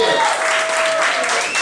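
A live audience applauds at a stage show, a dense burst of clapping with a voice carrying over it.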